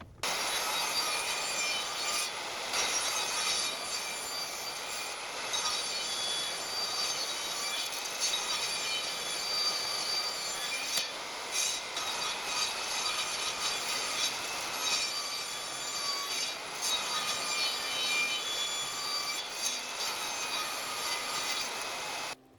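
A saw with its blade tilted to 45 degrees trims the corners off wooden pieces, a steady, loud high-pitched whine with grinding passes that swell and ease across several cuts, no voices.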